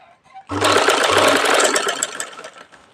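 A sewing machine stitches a suit, a loud, close mechanical whirr that starts abruptly and runs for a couple of seconds with rapid rhythmic needle clatter, then fades out.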